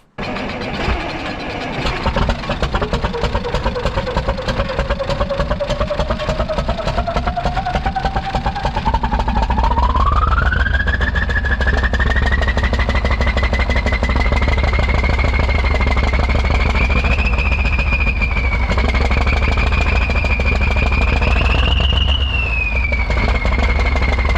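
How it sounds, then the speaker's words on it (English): A giant Soviet V8 engine in a Kirovets tractor roars close by, with a turbo whine that climbs steadily in pitch and then holds, wavering, over a heavy rumble. "There is something about a giant Soviet V8 engine with a distinctive turbo sound."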